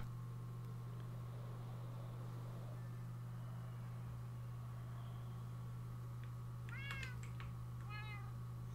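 Two short cat meows from Minecraft, one near seven seconds and another near eight, rise faintly above a steady low electrical hum and background hiss.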